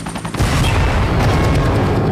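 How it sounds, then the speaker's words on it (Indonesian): Sudden loud explosion as a helicopter blows up moments after takeoff, a film sound effect with a sharp boom followed by sustained roaring, crackling blast rumble that fills the rest of the moment. "tiba-tiba helikopter meledak sesaat setelah helikopter lepas landas"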